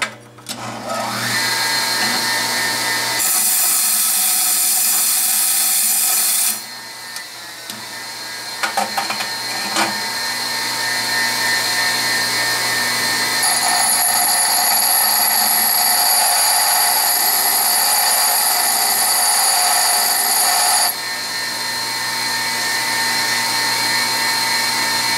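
A grinding wheel being trued on a machine shop tool while making carriage stop clamp bolts, heard as a steady high whine with abrasive dressing hiss that starts, pauses briefly, then resumes loud and continuous.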